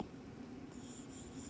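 An eraser or board wiper rubbing across a board, a soft continuous scrubbing, faint and close, in a quiet room with no voice.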